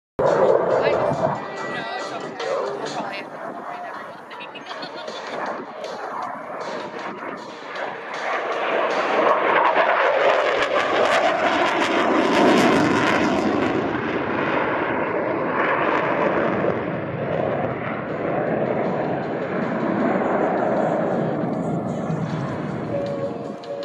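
An F/A-18F Super Hornet flying a pitch rate demonstration at the Columbus Airshow, its jet engines roaring loud and sustained as the noise swells and then holds, with an announcer talking over it.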